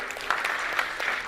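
Audience applause from a seated crowd at a speaker event, a steady wash of clapping hands with no pauses, moderately loud and close.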